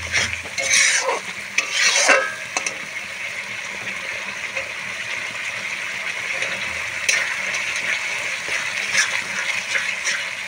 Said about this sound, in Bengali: মশলাটা আমি খুব ভালো করে কষানোর জন্য ছেড়ে দেবো